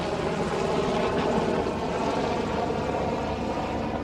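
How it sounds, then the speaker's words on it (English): A Red Cross helicopter flies over during the 2016 Louisiana flood, its rotors making a steady, moderately distant drone that fills the whole stretch without a break. "you can hear the helicopters, Red Cross. That's Red Cross right behind me. That's a Red Cross helicopter."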